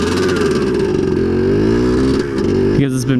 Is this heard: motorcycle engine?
yes